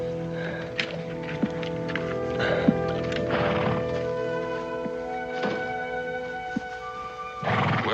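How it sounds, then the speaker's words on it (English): A horse neighs in a period frontier setting in eighteenth-century France, a whinny rising over a steady background with a few hoof thuds and clip-clops, no talk. "Ormond, your horse is here"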